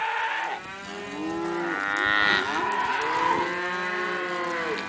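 Cattle in a herd of cows and calves moo in long, overlapping, wavering calls, loud and close, one lowing voice blending into the next with no talking.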